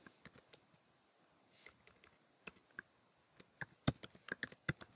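Keys clack on a computer keyboard while an email label name is typed into Bluehost webmail, coming in scattered bursts of crisp clicks with short pauses, near and quiet, with no voices.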